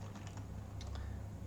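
Keys tapped on a computer keyboard while entering a command, a short run of light, quick clicks over a steady low hum, with no voices.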